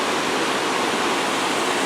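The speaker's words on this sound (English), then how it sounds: "right at the top here where the falls is dropping into that gorge" Potato River Falls plunging into its gorge makes a loud, unbroken roar of rushing water, even and near, with no other sounds or voices.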